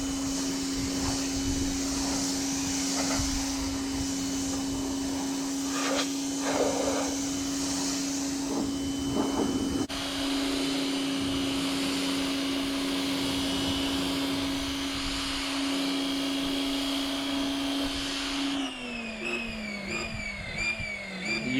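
A power buffer polishes and waxes the body of a rebuilt Corvette, a steady high motor whine that runs continuously, its pitch shifting and wavering near the end, close and loud with no talking.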